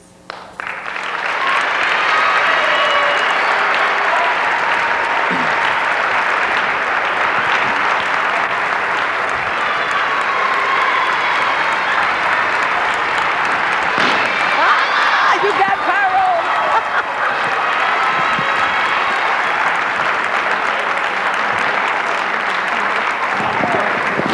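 Sustained audience applause at a children's dance theatre concert, a loud dense wash of clapping from a large crowd that swells in quickly and holds steady throughout.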